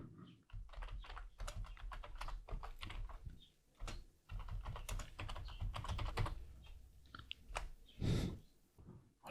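A command is typed on a computer keyboard, quiet close-up key clicks in uneven bursts with short pauses, ending in a firmer keystroke like a final Enter press.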